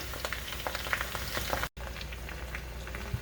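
Potatoes and onions fry in a cast iron skillet with a steady crackling sizzle, dotted with sharper pops and spits and a brief dropout partway through, with no voices.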